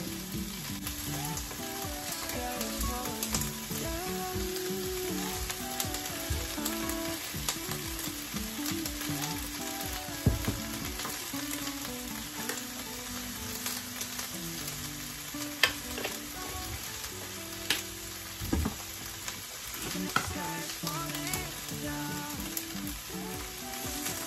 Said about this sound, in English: I like to cook the peppers and onions first, let them brown